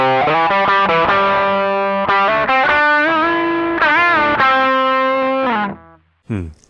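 Electric guitar crunch through a BOSS SD-1 Super OverDrive pedal at reduced gain, close and loud with no voices: strummed chords and bending lead phrases ring out for several seconds, then cut off, followed by one brief bright strum.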